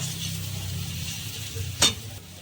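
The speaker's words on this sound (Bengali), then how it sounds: "ঢেকে ভালো করে মশলাটা কষিয়ে নেব" Spices sauté in a pan for a banana flower curry, giving a soft, faint sizzle with one sharp clink of a utensil against the pan.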